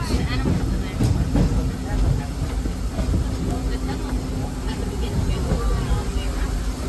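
Disneyland Railroad train rolling steadily along the rails, a loud continuous rumble and hiss with faint rhythmic clacking, heard from the front car.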